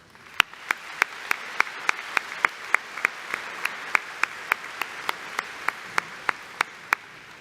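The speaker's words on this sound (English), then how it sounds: "You may now applaud." Audience applause at a university College of Education spring commencement ceremony, a steady run of sharp, evenly spaced claps standing out over a softer spread of clapping from the crowd, fairly close and alone without speech.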